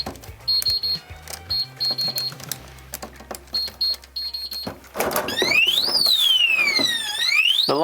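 An ADIMO safe box's vibration-sensor alarm goes off after repeated beeps and knocking, then a loud, sweeping electronic siren rises and falls continuously.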